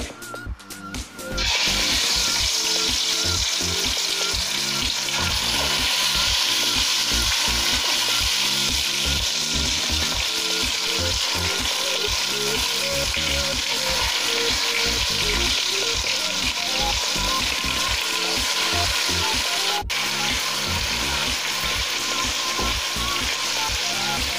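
A chicken leg piece drops into well-heated oil and sets off a loud, steady sizzle and crackle that holds without a break, with faint tonal kitchen sounds underneath.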